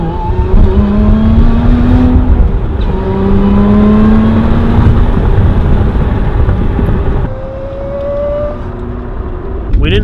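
A Lotus Emira fitted with a valve-controlled exhaust and Aventuri intake drones loudly under hard acceleration, engine pitch climbing steadily through gears with brief shift dips, heard from inside over road and wind noise.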